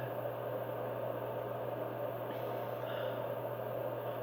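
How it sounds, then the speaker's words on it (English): Steady, even hiss of a white noise machine fills the background at low volume, constant and unbroken with no other sounds. "what you hear in the background is my white noise machine."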